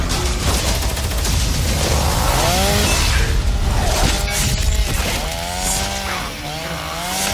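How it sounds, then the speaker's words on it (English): A chainsaw in a video game trailer roars loudly and continuously, its revving whine rising and bending in pitch over a dense wash of crashing action sound. "a chainsaw is just not a good idea for a zombie apocalypse"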